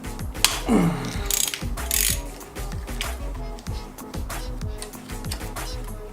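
Allen key loosening a bolt on an RB25 oil pump during gasket and seal replacement on an S13 drift build, giving repeated rapid ratcheting clicks and metallic mechanical ticking, close and steady throughout.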